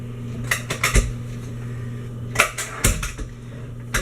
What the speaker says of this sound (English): I'm just scraping the sides of the bowl to make sure everything's very well incorporated